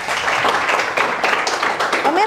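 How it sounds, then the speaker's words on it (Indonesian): Students in a secondary-school mathematics classroom clap together for a classmate, a dense burst of close applause mixed with voices. "Oke, tepuk tangan dulu buat Emir."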